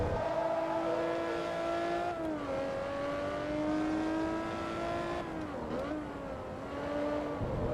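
A race car driven in the video game Forza Motorsport 2, its engine holding a loud, steady whine that dips and rises as the gears shift and the car brakes through corners.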